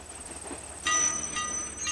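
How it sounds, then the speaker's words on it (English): A train pulls into a railroad stop in the video game Old Man's Journey, a sudden rise of rolling rail noise with faint high squealing tones, steady and fairly close, with no talk. "I guess we're taking the train."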